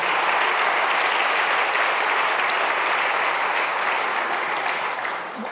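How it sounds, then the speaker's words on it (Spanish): A church congregation at a Holy Week sermon gives loud, sustained applause. Many hands clap densely and evenly throughout, tapering off slightly at the end, with no speech over it. "Podemos darle ese aplauso más fuerte al Señor."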